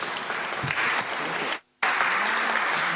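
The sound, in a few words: applause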